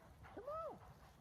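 A single short, faint bark from a dog outdoors during a freezing Texas winter storm with snow on the ground in Austin, rising and falling once over a low background hum.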